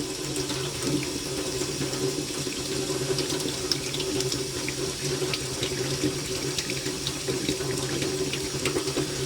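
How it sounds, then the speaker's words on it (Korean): Water sprayed steadily over disc brake parts while they are scrubbed clean, a continuous close hiss and splash of running water with no pauses. "물을 뿌리면서 계속 비벼주세요"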